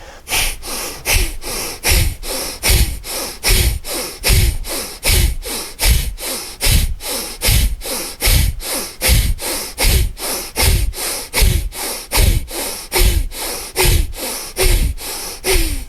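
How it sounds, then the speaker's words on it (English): Breath of fire yoga breathing pumps out as quick, forceful nasal exhales in a steady rhythm of about two per second, close and loud, continuing for the whole stretch. "And then another round of breath of fire."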